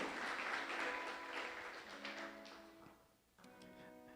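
Church congregation applauding during a sermon, a steady wash of clapping that swells and fades, dipping briefly before resuming more softly, with no talk over it.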